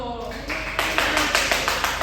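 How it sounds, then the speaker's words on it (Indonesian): A classroom group claps hands in a quick, rhythmic burst of sharp, evenly spaced beats, close and fairly loud, with voices heard underneath. "tepuk tangan dulu"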